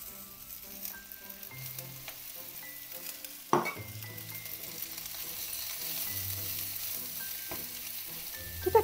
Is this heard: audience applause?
no